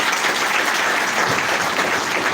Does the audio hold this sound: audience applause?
yes